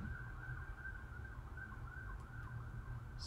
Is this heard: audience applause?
no